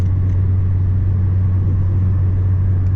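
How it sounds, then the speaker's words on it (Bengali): Interior of a moving car running low on fuel and apparently stuck in third gear, a constant loud low engine drone and road rumble with no let-up, wind noise faintly overlaid. "গাড়ির ভিতরে এরকম আওয়াজ হচ্ছে কেন?"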